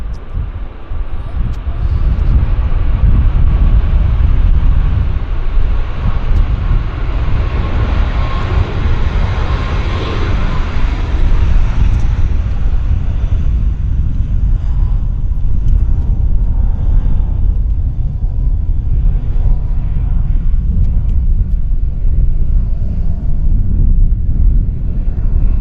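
Jet airliner landing at Vancouver Airport, a loud continuous engine roar that gradually fades as the plane passes, with wind noise but no talking.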